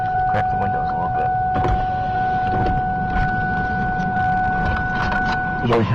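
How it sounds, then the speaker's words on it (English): Electric power windows on a car being lowered a crack during a severe thunderstorm, a steady motor whine running throughout under people talking inside the vehicle. "crack the windows a little bit"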